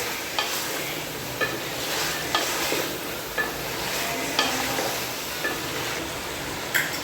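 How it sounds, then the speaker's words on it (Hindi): Chicken frying in a pan with spices, sizzling steadily while being stirred, with repeated scraping strokes of a utensil at a regular rhythm, close and fairly loud. "इसको अच्छी तरह भूनती हूँ मसाले डाल के"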